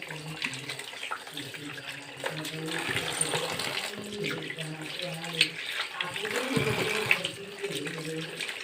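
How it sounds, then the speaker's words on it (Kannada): Tap water runs steadily while raw mangoes are washed in a kitchen sink, splashing and gurgling up close as the fruit is handled under the stream. "ಈ ಮಾವಿನಕಾಯಿನ ಚೆನ್ನಾಗಿ ವಾಶ್ ಮಾಡಿಕೊಂಡು ಈ ಮಾವಿನಕಾಯಿನ ಚೆನ್ನಾಗಿ ತೊಳ್ಕೊಬೇಕು."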